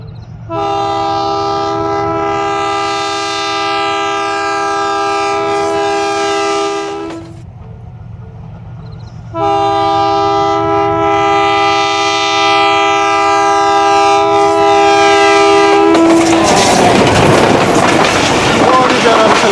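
Hazara Express train on Pakistan Railways at Missa Keswal station sounds a loud, sustained horn twice, separated by a short break, then roars past with heavy rushing rail noise.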